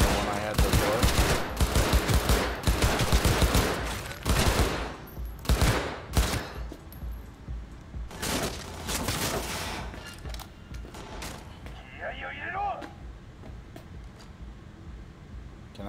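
Weapon fire in the game Cyberpunk 2077: loud, dense, rapid gunshot bursts that break into separate cracking shots, then quieter, fading scattered fire with faint talk in the background.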